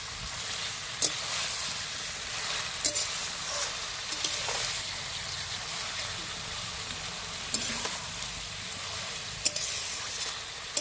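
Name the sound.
elephant foot yam stems being sautéed in oil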